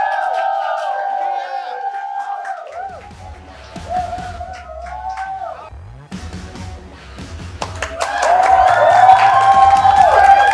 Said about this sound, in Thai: ขอเสียงปรบมือให้กับบัฟท้อออนสเตจซิลสักแป๊กใหม